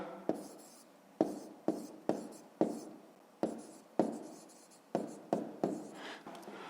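Pen strokes on paper during a fifth-grade math lesson, written in quick scratchy bursts with sharp onsets that fade, about a dozen close strokes in an otherwise quiet room.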